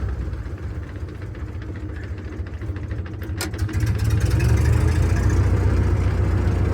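The diesel engine of a 1942 Caterpillar road grader idles loudly and continuously, a steady rumbling low drone thickening slightly partway through with no voices.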